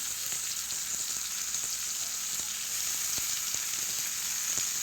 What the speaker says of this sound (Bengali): এবার কেটে রাখা চাল কুমড়ো বা ছাঁচি কুমড়োটা আমি দিয়ে দিচ্ছি